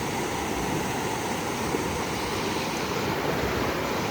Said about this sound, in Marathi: आणि इकडे बघा ही नदी